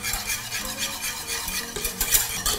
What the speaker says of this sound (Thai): เราก็เปิดใช้ไฟอ่อนนะคะต้องคนบ่อยๆด้วยเพราะว่าไม่งั้นตัวก้นค่ะอาจจะไหม้ได้